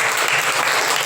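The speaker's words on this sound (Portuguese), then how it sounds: "Dê uma salva de palmas para Jesus" Steady applause from a church congregation, dense and continuous clapping that fills the whole moment without a break.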